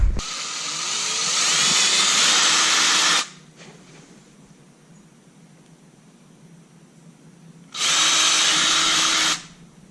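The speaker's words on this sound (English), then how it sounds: "So let's go ahead and start drilling." A power drill whines loudly for about three seconds while drilling holes for a truck grille install, stops, then runs again for a short burst after a quiet pause.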